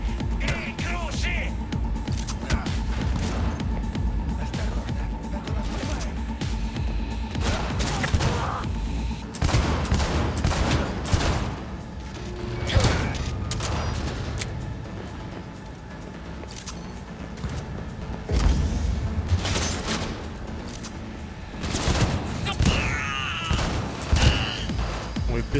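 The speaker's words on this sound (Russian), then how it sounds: "Пистолетики хорошо стреляют." Pistol gunfire in the video game Cyberpunk 2077, with repeated sharp shots in bursts over a busy game soundscape, mixed with thumps and occasional speech throughout.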